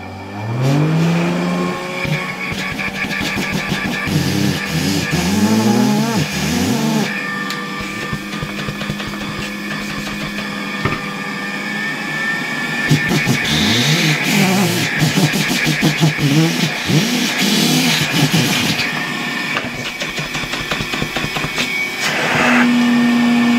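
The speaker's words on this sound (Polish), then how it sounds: "zróbmy jeszcze raz test tego odkurzacza po zmontowaniu" A 1964 Gamma II vacuum cleaner, just reassembled and run at reduced voltage through a regulator, runs loud and steady for the whole stretch, its motor whine shifting pitch now and then as the airflow changes.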